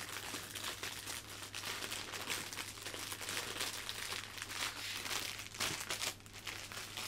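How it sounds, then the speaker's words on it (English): Cellophane crinkles continuously as it is gathered around a hand-tied pink rose bouquet, a soft close rustling over a low steady hum. "there we have our cellophane just placed around the outside of the design"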